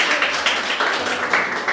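Classroom applause for the winner of a sixth-grade biology quiz: a steady, dense patter of clapping hands with a few louder surges, close by and with no talking over it.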